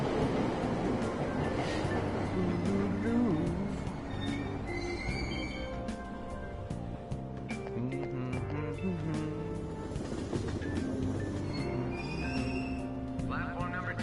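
A train rides along in the Persona 5 Royal video game, with rumbling wheels, squeals and clattering over a steady hum, while voices talk over it.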